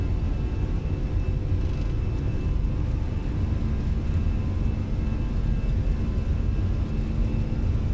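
An Airbus A320 accelerating down the runway on takeoff, heard as a steady, heavy engine roar and rumble from inside the aircraft, continuous and unbroken throughout.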